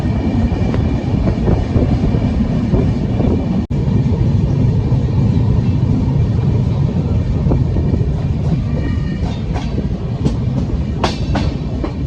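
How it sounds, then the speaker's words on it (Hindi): The Delhi Pathankot SF Express runs near Jalandhar on its way to Amritsar, a loud, continuous rumble of wheels and carriages heard from on board, with faint clickety-clack beats and a brief dropout partway through. "ट्रेन अपनी जलंधर शहर पहुंच चुकी है।"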